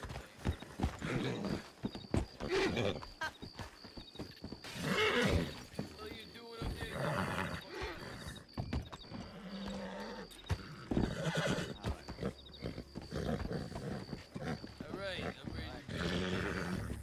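Horses whinny and snort while hooves clop unevenly in Red Dead Redemption 2, mixed with game sound effects and people talking over the top throughout.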